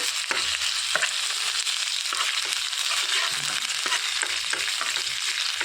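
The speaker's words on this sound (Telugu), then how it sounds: "అల్లం వెల్లుల్లి పేస్ట్ వేసుకొని వేయించుకోవాలి పచ్చివాసన పోయేంత వరకు" Ginger garlic paste fries in hot oil in a pan, a dense, even sizzle broken by regular stirring scrapes every second or so, heard up close with no voices.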